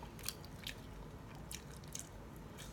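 Someone biting into and chewing a McDonald's Grand Big Mac, with several soft crunchy bites and moist chewing close to the microphone against a faint background hiss.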